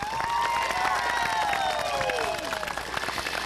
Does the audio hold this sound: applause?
yes